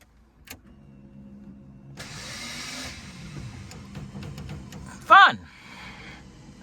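Starter motor on a 1957 Rolls-Royce spinning freely without engaging the engine, its Bendix drive not extending. A short whirring burst is followed later by a sharp rising whine, close by, with quiet shop sounds in between.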